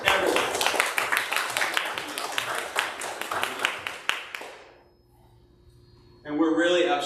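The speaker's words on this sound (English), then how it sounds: "let's just give all these people a round of applause" A church congregation claps for its volunteers in a warm burst of applause that fades into quiet before a voice starts speaking.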